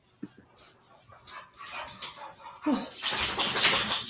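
Dogs barking and whimpering at the neighbours' outdoor cats, starting with faint scattered yips and building into louder, closer excited barking toward the end.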